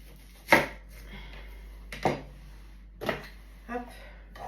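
A knife cuts onions in half on a board, four distinct firm chops spaced about a second apart, close and fairly loud, with faint speech in the background.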